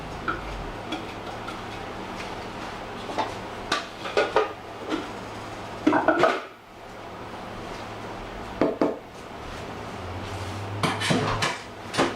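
A utensil scrapes dough out of a bowl in a kitchen, a series of scattered clinks, knocks and scraping strokes against the dish, fairly close and quiet, with no talking.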